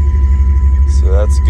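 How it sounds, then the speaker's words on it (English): A 5.9-litre Jeep ZJ engine rumbles steadily at low pitch just after firing up, loud and close throughout, with a couple of brief voice-like sounds near the end. "put the key in. And fires right up."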